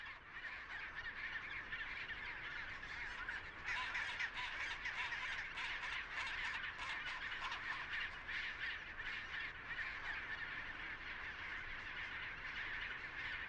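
A colony of chinstrap penguins in Antarctica calls continuously, a dense, loud chorus of honking, braying cries from many birds at once, layered and overlapping with no pauses.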